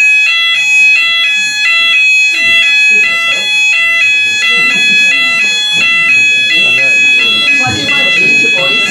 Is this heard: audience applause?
no